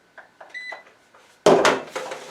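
A Magical Butter machine filled with hibiscus alcohol tincture gives a few short, quiet electronic beeps after being plugged in, followed by a much louder clunk and rattling.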